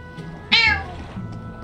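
A cat meows once in the video game Tales of Berseria, a short bright mew that rises and falls over a soft ambient game background.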